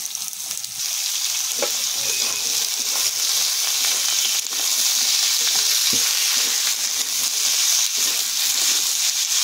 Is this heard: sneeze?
no